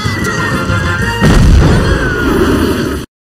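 Cartoon bomb explosion at a bio-dome door opening ceremony: a dense, loud boom bursts in mid-clip over ongoing busy sound, with rumbling debris trailing off before an abrupt cut to silence.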